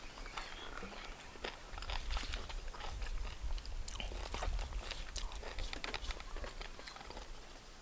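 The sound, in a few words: eating sticky rice with mushroom curry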